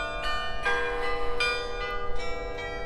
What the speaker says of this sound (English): every once in a while also noise from the bells